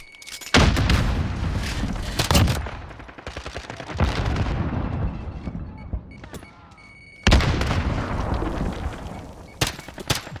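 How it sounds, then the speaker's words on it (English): Gunfire and blasts in the video game Call of Duty: Modern Warfare, including a grenade explosion, with loud bursts of shots and heavy booms separated by short quieter gaps. "Throw a grenade."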